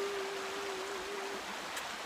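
A river flows past a quiet bank, a soft broad wash of water with a faint steady tone through the first part and no voices.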